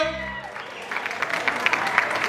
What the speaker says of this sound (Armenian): Բրավո, ձեր ծափարությունները